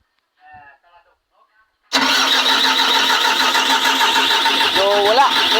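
A car engine cranks but fails to start during no-start troubleshooting: faint voices, then an abrupt loud, continuous mechanical churning that runs steadily to the end.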